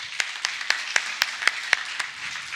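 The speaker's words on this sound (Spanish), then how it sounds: "Un aplauso, hermanos," A church congregation claps in scattered fashion, with about eight sharp, separate claps spread across a couple of seconds rather than a full, dense round of applause.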